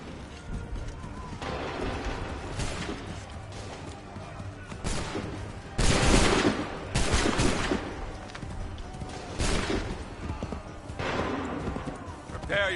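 Musket volleys crack out in Assassin's Creed 3 as bursts of loud gunfire, with repeated sharp clusters of shots over a battle din of hooves and commotion, while voices shout orders.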